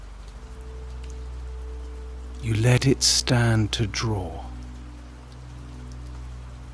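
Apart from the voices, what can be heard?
rain and storm against old cottage window glass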